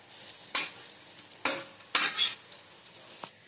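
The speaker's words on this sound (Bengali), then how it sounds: "দেখুন বন্ধুরা, আমার বড়াগুলো ভাজা হয়ে গেছে" Egg and lentil fritters (bora) frying in a pan, with a few sharp spatula scrapes and clinks over a low, steady sizzle as they are turned, close by and with no talking.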